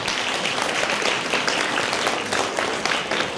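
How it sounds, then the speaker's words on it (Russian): Audience applause in a hall during a concert evening honoring a composer's anniversary, brisk continuous clapping from a moderate-sized crowd, fairly close and sustained for a few seconds. "Аплодисменты."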